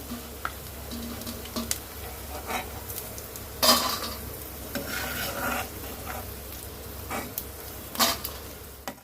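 Edible gum (gond) pieces frying in ghee, with a soft sizzle broken by scattered sharp clinks and scrapes of a spoon stirring against the pan.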